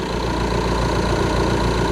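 A 2.0 TDI diesel engine in an Audi A4 idles at a steady rumble, loud and close, with a constant low drone and a faint rhythmic knock throughout, no voices over it.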